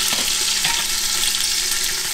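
Tomato paste frying in a pan beside a seared leg of venison, a dense continuous sizzle close by with a few faint stirring scrapes, no talking.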